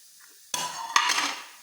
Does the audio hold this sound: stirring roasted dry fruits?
yes